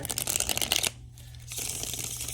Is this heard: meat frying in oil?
no